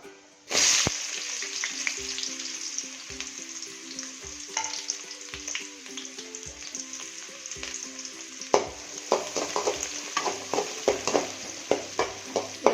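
Chopped big onions dropped into hot oil with mustard seeds, bursting into a loud sudden sizzle that settles into steady frying, then a run of rhythmic scraping stirs with a spatula toward the end.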